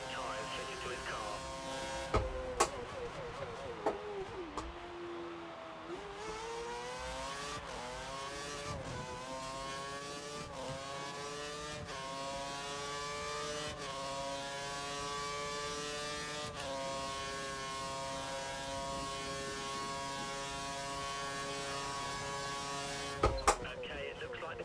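Formula 1 car from the F1 2013 video game at the Korean Grand Prix, its engine screaming at high revs with rising and falling pitch through gear changes, a steady whine throughout with brief sharp clicks.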